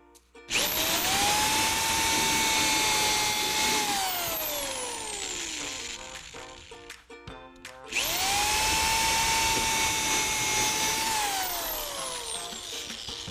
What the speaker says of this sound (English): drill your pilot holes first and then drive your screws in